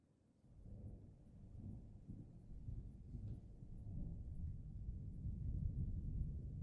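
Low, rolling thunder rumbles continuously, building gradually in strength as a distant storm grows.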